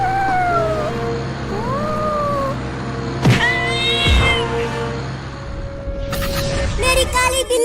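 A cat meows a few times, drawn-out wavering cries over a steady background drone, with a short rattling clatter near the end.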